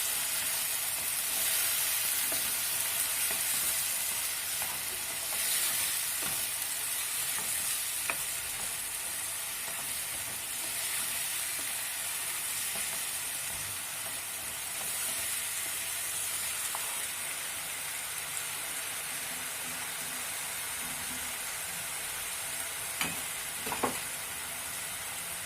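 Spice masala sautéing in a kadai for vegetarian methi chaman, a steady hiss and sizzle with soft scraping stirs and occasional clinks running throughout, fairly close and even.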